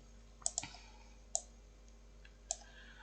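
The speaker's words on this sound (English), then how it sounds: "If you can hear clicking, that's my mouse." A computer mouse clicks sharply four times, close and crisp, with the first two in quick succession and the rest spaced about a second apart over faint background hum.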